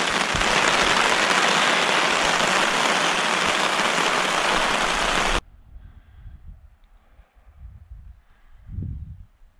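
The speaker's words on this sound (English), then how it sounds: "This bloody rain's coming back in." Steady, dense rain patters loudly on a tent in the Kaweka Range for several seconds, then stops abruptly, leaving faint low rumbles and quiet shuffling.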